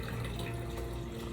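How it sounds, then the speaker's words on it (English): Warm water pours steadily into a bowl for round French bread dough, about two and a quarter cups, a continuous loud rushing gush with no talk over it. "I am going to add, this is my cup and like 2 and 1/4 cups of water"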